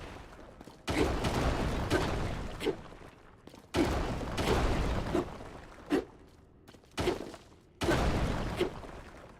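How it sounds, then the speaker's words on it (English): Bomb blasts in The Legend of Zelda: Tears of the Kingdom, a run of close, loud bursts, several long roaring explosions separated by shorter sharp pops, with no speech over them. "This is a bomb."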